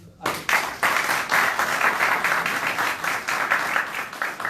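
An audience at a gathering in Barcelona breaks into loud, sustained applause after a brief hush, the dense clapping swelling in waves and staying close and strong to the end.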